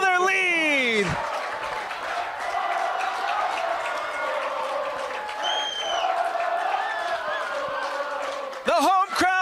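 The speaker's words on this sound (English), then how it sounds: "The home crowd on their feet. They're loving it." A home crowd cheers and applauds at a boys high school soccer game between Bountiful and Alta after back-to-back goals, a steady roar that sits under a commentator talking throughout.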